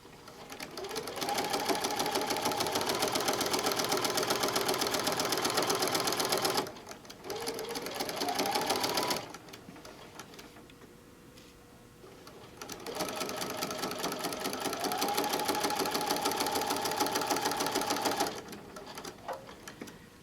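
A sewing machine stitches a quilt-as-you-go tote bag, running in bursts of several seconds with rhythmic whirring, pausing briefly between seams; close and moderately loud, alone without talk.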